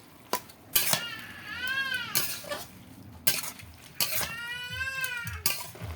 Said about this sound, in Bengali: এবার দিয়ে দেব শাক এবার একটু ভালোভাবে নেড়ে করে নেবো